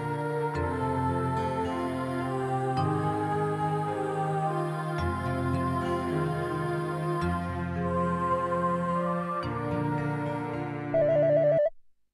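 A telephone ringtone plays a repeating melodic tune for about eleven seconds, clear and steady with no talk, before cutting off abruptly.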